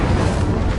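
A short, dense burst of fire from the Incendio spell in Hogwarts Legacy, a loud rushing whoosh lasting under a second with no talk.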